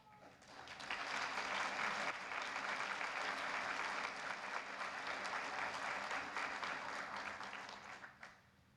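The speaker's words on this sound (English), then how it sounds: "for this, Carson, we applaud you." Sustained applause from an audience honoring Carson King at a media thank-you event hosted by healthcare professionals, rising quickly, holding steady and loud for several seconds, then tapering off at the end.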